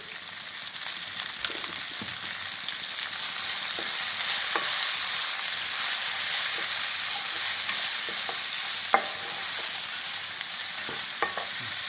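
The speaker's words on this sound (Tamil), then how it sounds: "நல்லா காய்கறிலாம் வதங்கிடுச்சு" Mixed vegetables sauté in a pan for bisibelabath, seasoned with turmeric and salt, giving a steady close sizzle with occasional stirring clicks and scrapes throughout, no talking.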